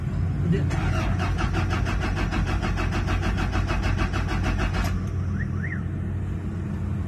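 A Toyota Fortuner with a speed sensor being replaced cranks with a rapid rhythmic starter whir for about four seconds, then stops without firing; a person talks close by throughout.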